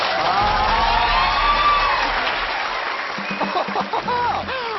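A studio audience at a Thai business pitch show cheers and claps loudly, with whoops and shouts. The noise thins toward the end as individual voices break through.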